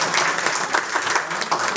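An audience applauds at a book launch ceremony for Iqbal Naqsh hay Haft Rang, a dense, even patter of many hands clapping close by, with a voice faintly underneath.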